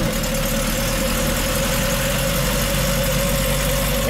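A Revolt propeller aircraft engine starting and running close by, a steady loud drone with a low throbbing rumble and no pauses.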